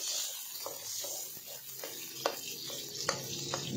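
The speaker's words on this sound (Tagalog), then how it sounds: "Painit lang ako dito ng konting mantika tapos nga igigisa na nga natin itong ating mga sibuyas." Onions sauté in hot oil in a wok with a steady close sizzle, broken by a few sharp scrapes and taps as they are stirred.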